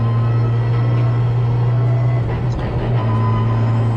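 Ford Fiesta race car at a Donington trackday race, its engine a steady droning hum with a brief fluctuation midway, heard under a commentator talking.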